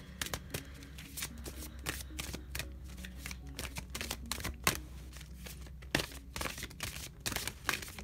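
Tarot cards shuffled and drawn by hand, a quick run of crisp riffling snaps and flicks, close and clear, with no talking.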